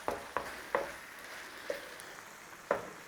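Mince and onion filling for a British beef pie cooking down in a pan, with a soft steady sizzle broken by about five sharp scraping stirs spaced irregularly, close and alone with no talking.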